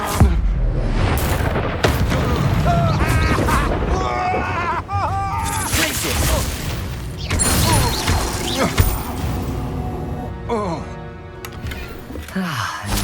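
Confringo fire-spell blasts from the Hogwarts Legacy video game, loud booming bursts and crackling impacts amid dense game effects and music, with a voice speaking over the action.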